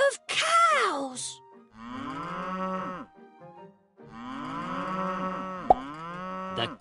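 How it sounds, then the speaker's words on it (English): Several long, loud cow moos follow one another, some overlapping as a herd calls out close by, with brief pauses between them. "The cows moo and moo."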